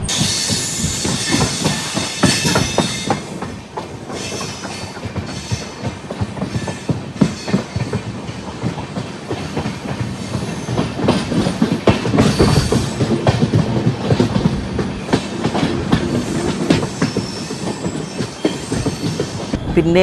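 Inside a 2AC coach of the Thiruvananthapuram–Veraval Express, the moving train rumbles continuously, with rhythmic clickety-clack from the wheels over rail joints and occasional squealing, heard alone for about twenty seconds.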